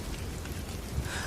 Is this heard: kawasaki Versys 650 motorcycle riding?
no